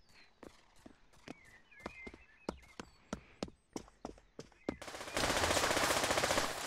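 P90 submachine gun in the VR shooter Pavlov, loud sharp shots fired one at a time in an uneven rhythm, then a dense continuous burst to finish.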